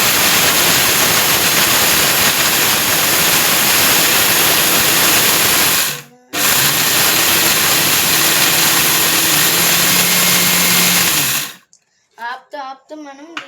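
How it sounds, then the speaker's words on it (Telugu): Mixer grinder grinding ingredients into a fine powder, a loud steady whirring roar that stops briefly and restarts, then cuts off, followed by voices talking. "ఆపుతూ మనం దీన్ని మిక్సీ పట్టాలి"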